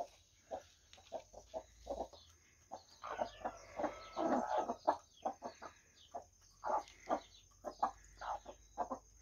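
Broody hens cluck on a farm among chicks, a run of short, close, repeated clucks in an irregular rhythm with brief busier stretches, no talking heard.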